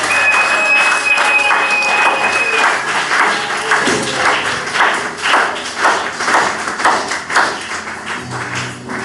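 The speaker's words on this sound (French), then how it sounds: "Est-ce que tu peux pousser les cris de joie et des acclamations?" A church congregation at a French-language worship service breaks into loud, sustained applause with rhythmic claps and cheering voices, filling the room for several seconds.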